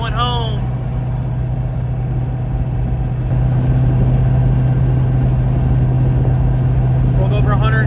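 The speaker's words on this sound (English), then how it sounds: "we're cruising in the Cobra, heading up 95" A Cobra car cruising up the highway, a steady, loud low engine drone with road rumble that holds level throughout, and a voice talking over it.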